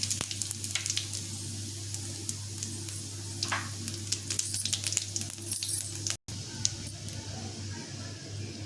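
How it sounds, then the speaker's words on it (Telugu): Dried red chillies and cumin tempering in hot oil, a faint steady sizzle with crackles and pops, under a constant low hum. "ఇప్పుడు అదే నూనెలో తాలింపు పెట్టుకుందాం. ఒక 4-5 ఎండుమిర్చి తాలింపుకు, కొంచెం జీలకర్ర"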